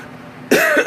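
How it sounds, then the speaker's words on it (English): A person with a lingering cough gives one sharp, loud cough up close, followed by a quick second burst, after a stretch of quiet room tone at a live tea tasting. "I have a little bit of a cough still."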